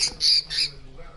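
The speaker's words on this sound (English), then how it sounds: "The bird." Pet bird giving two loud, harsh squawks close by, each lasting a fraction of a second with a short gap between, followed by quiet room tone.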